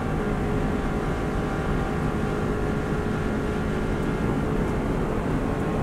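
A Subaru WRX STI engine held at full throttle on the Isle of Man gives a steady, unbroken roar with road and wind noise blended in, heard from inside the car.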